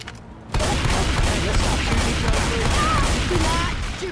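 Dense, continuous gunfire in the video game Left 4 Dead 2 rattles on for several seconds at close range, loud and unbroken after a brief quiet start.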